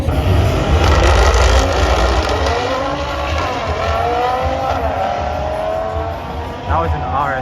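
An Audi RS3 sedan races past at a car show, its engine loud and close with tire noise, while people talk over it.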